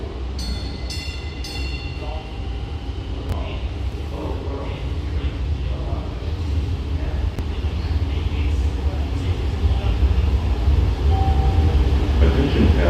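MBTA Green Line train approaching a Boston station, a rising rumble of wheels and motors growing louder over about thirteen seconds, with high squeals and clanks early on and people talking faintly in the background.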